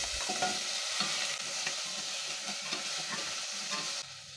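Chopped carrots and potatoes are stir-fried in a pan for a soup, producing an even sizzle broken by repeated scraping stirs, fairly close and alone, then quietening near the end.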